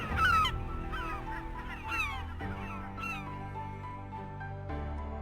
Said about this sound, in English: Every year, more than 4 billion birds take to the skies in one of nature's most astonishing feats